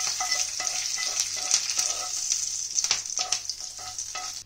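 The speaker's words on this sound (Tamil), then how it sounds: "இப்போ வந்து இந்த தாளிப்பை நம்ம சட்னியில் சேர்த்திடலாம்." A hot tempering of mustard seeds, urad dal, cumin and curry leaves crackles and hisses as it meets tomato chutney, a bright continuous sizzle with sharp pops and spatters throughout.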